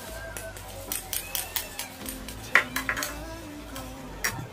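Dalgona coffee mixture stirred in a bowl gives rapid clinking and scraping strokes of a utensil against the dish, close and uneven, with a single louder knock midway.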